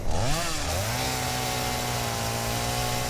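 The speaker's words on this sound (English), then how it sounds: "Then we are going to get our chainsaw out." Chainsaw in the video game Satisfactory revving and cutting through a tree, a loud, steady motor whine that rises sharply at the start then settles into a continuous high drone for several seconds, with no voices.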